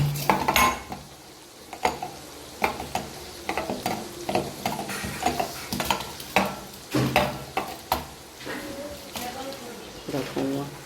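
Potatoes stirred and frying in a home kitchen pan, with repeated scraping and clattering strokes of a utensil against the pan over a soft sizzle, while someone talks throughout.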